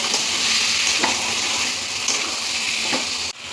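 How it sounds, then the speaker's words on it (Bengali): Crabs and oil sizzle loudly in a pan of frying spice paste, a steady close hiss broken by a few stirring scrapes and a brief dip near the end. "এবার দিয়ে দেব ধুয়ে বেছে রাখা কাঁকড়াগুলো, সঙ্গে তেলটা ভালোভাবে কষিয়ে নেব"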